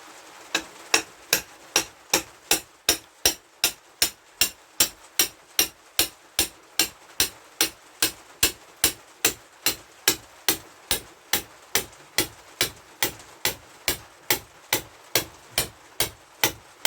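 Steady, evenly spaced hammer blows, dozens of sharp metallic strikes in a regular rhythm, close by and with no talking.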